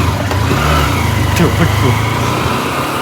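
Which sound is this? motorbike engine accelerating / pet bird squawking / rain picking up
motorbike engine accelerating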